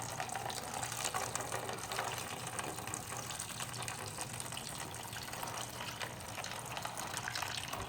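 Coolant gushes steadily out of a Ninja 300 motorcycle during a coolant flush, a continuous rushing, splashing liquid stream that stays even throughout without speech.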